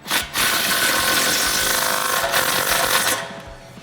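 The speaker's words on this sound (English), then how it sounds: "So now we're going to tighten our ball joint back up." A Dodge Charger ball joint being tightened during a lowering-spring install, with a power tool whirring loudly and steadily for about three seconds after a short initial burst, then cutting off.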